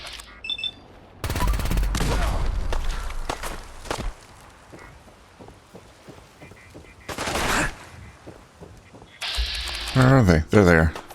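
Bursts of gunfire in a Fallout 4 firefight on the coast, loud broadband volleys around two seconds and again near seven and ten seconds, with fainter shots and footsteps between them.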